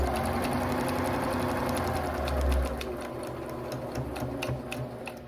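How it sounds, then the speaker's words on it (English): Sewing machine stitching a drawstring backpack, a steady close whir of rapid needle ticks running throughout with a brief louder surge midway, no voices. "stop it and sew it down so that you make sure that you're keeping it straight"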